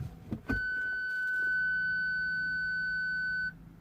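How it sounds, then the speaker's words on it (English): A Ford Galaxy's rear parking sensor sounds a single steady electronic beep on engaging reverse, a clear sustained tone lasting about three seconds with a faint higher overtone, heard inside the car with no talking. "when you engage reverse, which I'm going to do it, you're going to hear a beep"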